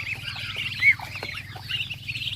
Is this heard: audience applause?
no